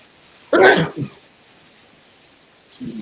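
A man sneezes once in a sharp, close burst, followed by a brief softer sound and a faint noise near the end, against quiet room tone.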